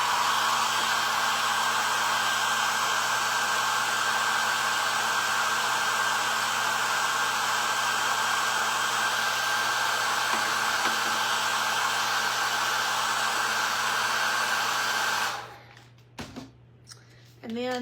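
A hair dryer blows steadily on fresh paint on a painted wooden sign, a loud continuous whir with a faint whine that runs for about fifteen seconds, then cuts off abruptly, leaving brief clicks and quiet.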